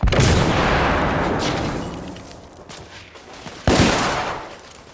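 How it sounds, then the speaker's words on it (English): A grenade blast and gunfire in the video game The Order: 1886 open loud and near on a heavy boom, trail into rolling shots, and end with a second sharp blast, with no voices. "Grenade!"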